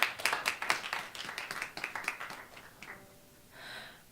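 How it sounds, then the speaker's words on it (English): Audience clapping for performers at a Berklee in-the-round concert: a dense, lively burst of hand claps that gradually thins and trails off, with a faint scattered tail near the end. "Let's get a round of applause for all these people sitting next to me."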